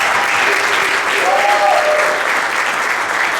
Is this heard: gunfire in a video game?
no